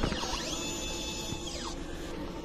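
An inkjet printer with an aging print head runs its head cleaning cycle: a steady, close mechanical whir with motor tones that glide up, hold, then sweep back down over a constant background hum.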